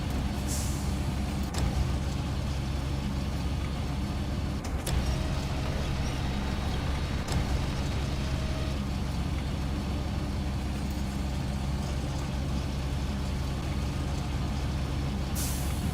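Air brakes hiss on a Mack truck in SnowRunner, with short bursts of released air over a steady, loud engine drone, alone with no talk.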